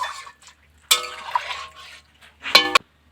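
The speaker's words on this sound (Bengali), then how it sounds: "এখন আমি এর মধ্যে জল দিয়ে দেব। সবজিগুলো সেদ্ধ হতে একটু সময় লাগবে, তাই আমি 1 মগ পরিমাণে জল দিলাম।" About one mug of water is poured into a cooking pot of simmering vegetable curry, in two short splashing pours separated by a pause.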